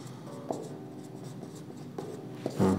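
Pen or chalk writing out a sentence structure in a quiet room, a soft continuous scratchy rubbing with a few brief louder taps and strokes, close and faint.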